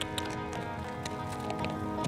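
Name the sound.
horse galloping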